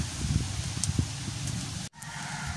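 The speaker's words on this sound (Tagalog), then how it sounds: "Lumakas kasi yung hangin." Steady roar of strong wind through coconut palm leaves, broad and rushing, with faint rustling and a brief drop near the end before the gusting resumes.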